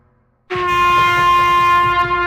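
A train horn blasts suddenly after a short silence, a loud sustained tone holding steady to the end with low rumble underneath.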